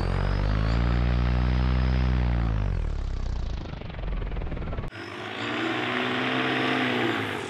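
Electric paramotor motor and propeller under throttle, a loud close droning hum that rises and falls in pitch, fades as throttle drops, then resumes with a steadier tone after an abrupt cut.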